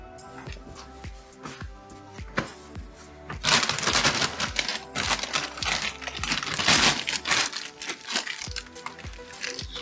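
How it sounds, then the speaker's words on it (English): A greasy plastic bag is squeezed and crinkled by hand in a workshop while stripping a Classic Mini radius arm, giving close, loud bursts of crackling plastic with short pauses. "squeeze all the grease to the bottom"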